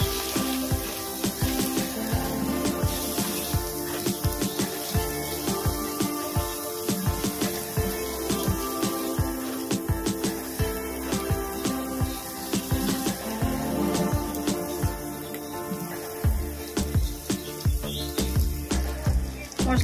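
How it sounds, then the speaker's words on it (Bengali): Spices with salt, turmeric and chilli powder fry in a pan for a shol fish curry, giving a loud, continuous sizzle with rough crackling bursts close by, no talking. "মশলাটা ভালো করে কষিয়ে নেব"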